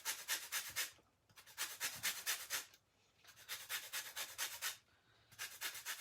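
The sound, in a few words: grating lemon zest on a cheese grater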